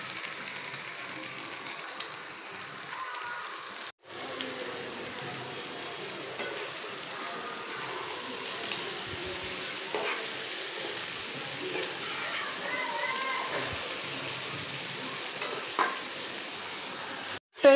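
Cauliflower bhaji frying with egg and chilli in a pan, a long steady sizzle at moderate level with soft stirring noises, briefly cutting out once early and again at the very end.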